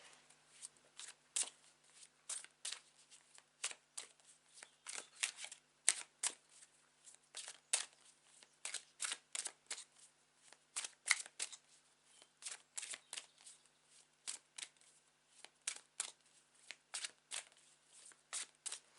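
Tarot cards are shuffled by hand, close and quiet, as a long series of crisp riffling bursts in an uneven rhythm.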